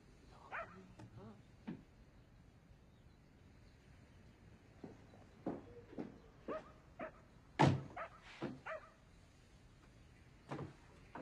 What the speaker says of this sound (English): What kind of dog is that? Is that a cocker spaniel?